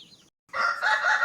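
A Rhode Island crossbred chicken gives a short, close crow-like call after a brief clucking note and a moment of silence.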